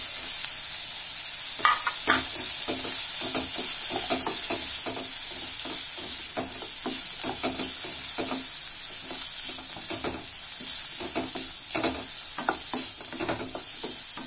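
Spice powders fry in a pan for a ragi masala dish. A steady hissing sizzle continues underneath while a utensil makes rhythmic scraping and tapping strokes against the pan. There is no speech.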